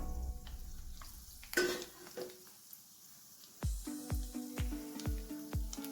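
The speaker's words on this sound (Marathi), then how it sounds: "त्यात मी हे टाकून घेतले सर्व आणि छानपैकी सोनेरी रंग येईपर्यंत तळून घ्यायचे आपल्याला" Cheese balls drop into moderately hot oil for frying, first a burst of sizzle, then a series of soft wet splashes and crackles as more pieces go in, close and fairly quiet with no talking.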